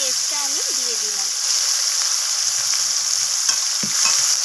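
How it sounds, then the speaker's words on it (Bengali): Spice paste fries in a pan, a bright steady sizzle heard close up, with occasional stirring scrapes and a voice talking briefly at the start. "পেস্টটাকে এইভাবে নাড়াচাড়া করে আমি কষাতে থাকবো"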